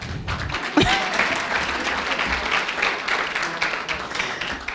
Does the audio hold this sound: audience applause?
yes